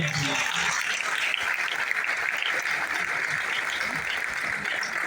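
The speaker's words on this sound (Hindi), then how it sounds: "चाहूंगा सचिन सर के लिए और उनके मिसेस के लिए, मैडम जी के लिए दिल से जोरदार ताली." A crowd claps loudly and continuously at a stage event in Kalyan, Thane, India, a dense, sustained round of applause with no pauses.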